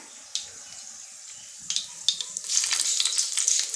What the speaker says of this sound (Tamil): அது கடுகு பொரிஞ்சிருச்சு